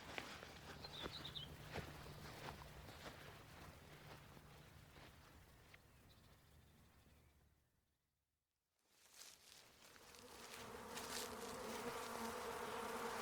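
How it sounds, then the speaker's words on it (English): A swarm of bees buzzing above trees outdoors, a continuous distant hum under steady ambient noise, briefly dropping to near silence before returning fuller. "Matthew, that is a swarm of bees. And I can hear them from here"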